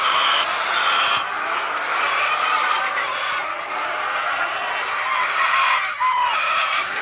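A backyard hen clucks and cackles while laying eggs, repeated fowl calls over steady outdoor background noise, fairly close, with no talk.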